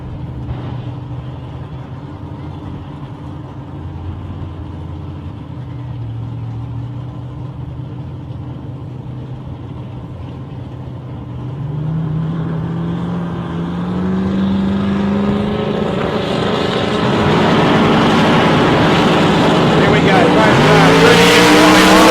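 Corey Reed's and Kevin McIver's drag racing cars at the ANDRA Grand Final idle with a low rumble, then rev harder and launch into a rising, screaming roar that grows louder and peaks at the end, with faint commentary early on.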